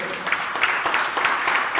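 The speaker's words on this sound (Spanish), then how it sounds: "¿Cuántos pueden dar un aplauso a Cristo?" Steady applause from a church congregation, a dense even patter of many hands clapping with faint crowd murmur beneath, sustained throughout.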